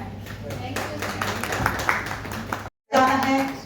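Clapping from the audience at a chef's book release event, briefly heard under a speaking voice before a short gap, then more sound resumes.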